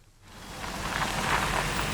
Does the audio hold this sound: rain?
yes